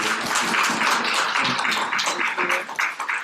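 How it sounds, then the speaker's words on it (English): An audience claps in a warm round of applause after a community forum presentation, dense steady clapping throughout, fairly close and loud, tapering slightly at the end. "just a huge round of applause"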